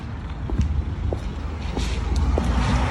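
Car rumbling along a street with heavy wind buffeting the microphone, a steady low roar lasting throughout with faint sharp clicks.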